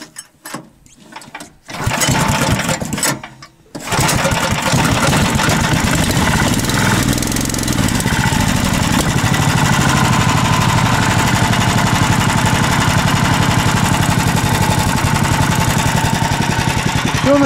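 Small engine on a homemade vehicle starting after a few stuttering tries, then running loud and continuous with a rough, steady drone close by.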